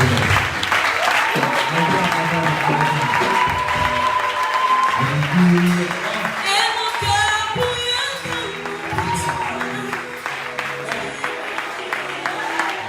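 A church congregation applauds and acclaims the Lord during a worship service, sustained loud clapping and shouting voices with rhythmic claps growing more distinct toward the end.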